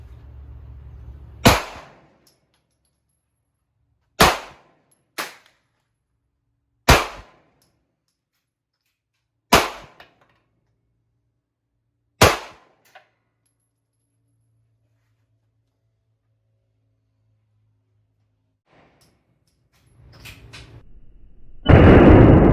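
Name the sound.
Glock pistol shots at 25 metres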